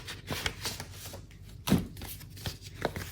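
A small paper envelope holding skincare samples is handled up close, giving several quick crinkling rustles and soft papery taps in uneven bursts, with no talk.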